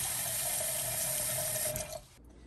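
A stainless steel pot fills with cold water from a faucet, a constant hissing splash with a steady pitched ring that stops after about two seconds, leaving faint background hush.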